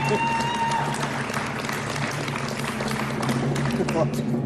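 A studio audience on a quiz show applauds, a continuous patter of many hands heard under a voice speaking over it.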